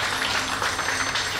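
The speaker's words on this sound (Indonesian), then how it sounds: "Ya, tepuk tangan yang luar biasa untuk Hengki Helena ini ya." Steady, dense audience applause fills the whole moment at a Christmas gathering, a continuous wash of many hands clapping at even loudness with no speech over it.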